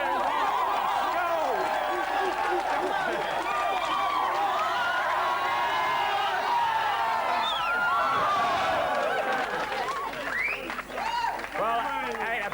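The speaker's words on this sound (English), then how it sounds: "come on, let's have a big cheer for Norman" A television studio audience cheers and claps for a contestant's race, a sustained roar of crowd noise with scattered whoops and laughter under a host's voice that carries throughout.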